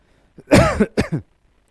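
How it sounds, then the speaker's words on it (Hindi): A few harsh coughs close up, a strong hacking burst followed by two shorter ones, with silence on either side. "थोड़ी खांसी होगी दोस्तों"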